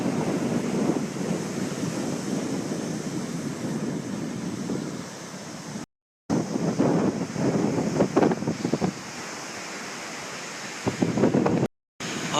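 Ocean surf and gusting wind roar steadily on cold, hard sand at Rockaway Beach, Oregon, with wind buffeting the microphone and two brief dropouts.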